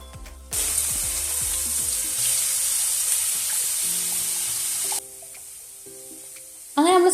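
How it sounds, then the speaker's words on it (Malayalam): Finely chopped ginger, garlic and onion sautéing in oil in a pan, with a continuous hissing sizzle that cuts off partway through and returns briefly near the end. "ഇഞ്ചി വെളുത്തുള്ളി സവോള എല്ലാം വളരെ ചെറുതായിട്ട് അരിഞ്ഞത് ചേർത്ത് കൊടുത്ത് നല്ലപോലെ ഒന്ന് വഴറ്റി കൊടുക്കാം"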